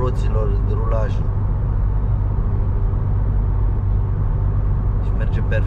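Steady low tyre roll and road rumble inside a Ford Mondeo Mk3 2.2 TDCi on a drive to a forest, a continuous dense hum with a brief voice at the start and end.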